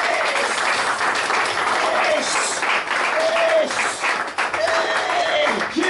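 Church congregation clapping for Jesus, dense steady applause from many hands close by, with a voice speaking briefly over the clapping.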